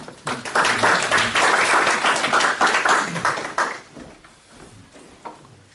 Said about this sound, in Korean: 나오실 때 박수 우리